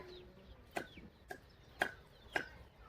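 Chickens cluck in short, sharp bursts, about four calls spaced irregularly, fairly faint against quiet outdoor background.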